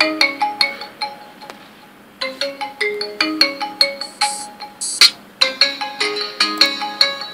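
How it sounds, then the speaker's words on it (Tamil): A phone ringtone from an incoming call plays as bright, repeating melodic tones in clear rhythmic phrases, with one short pause partway through, loud and close with no talk. "இன்னொரு ஃபோன்லேருந்து என் ஃபோனுக்கு கால் பண்ணுறேன்"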